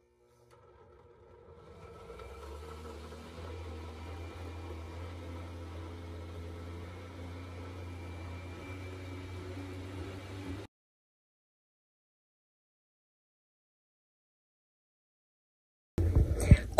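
An overfilled blender runs on its lowest speed, blending a hot peanut tea mixture with a steady motor hum for about ten seconds, then stops abruptly; a brief clatter follows after a silence.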